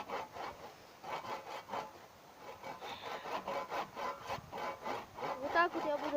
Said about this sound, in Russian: Беру просто пилу